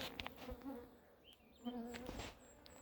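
Mosquitoes buzz on a mountainside in the evening, a few thin whining drones rising and fading close to the ear against quiet outdoor background.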